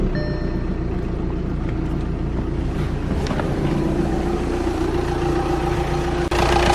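An Audi A5 engine runs at a steady idle with a low, even hum and a faint mechanical whir that stays constant throughout, and a brief click comes near the end.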